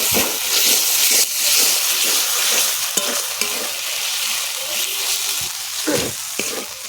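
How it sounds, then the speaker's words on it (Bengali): Potatoes coated in poppy seed paste are stirred steadily in a hot wok, a continuous sizzle and frying hiss with repeated scraping strokes of the spoon across the pan bottom, close and alone. "পোস্ত দেওয়ার সাথে সাথে কিন্তু কড়ার নিচেটা লেগে যাবে, যাতে পুড়ে না যায়। ভালো করে নাড়তে হবে।"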